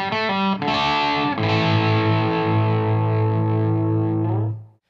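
Electric guitar through an ENGL Special Edition tube amplifier pushed by a tube driver, a few quick distorted notes followed by a sustained, saturated chord ringing out loudly before cutting off abruptly.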